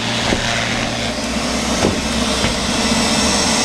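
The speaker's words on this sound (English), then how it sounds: "The robot vacuum cleaner." A steady, low mechanical hum of a robot vacuum runs continuously, with a few faint clicks and bumps over the drone.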